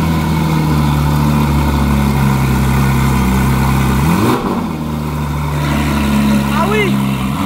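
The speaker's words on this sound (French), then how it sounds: "c'est parti pour le démarrage de la GT3 avec les échappements Akrapovic" Porsche GT3 fitted with Akrapovic exhausts fires up: a loud, steady engine drone with a sharp rev swell near the middle, then settling back to a deep idle, with voices reacting in the background.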